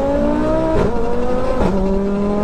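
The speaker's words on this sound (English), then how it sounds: "the way it pops and you can hear the turbo like winding up. That downshift is angry" A car engine revs hard and loud with rising turbo whine, a sharp downshift blip and crackling exhaust pops, close and alone.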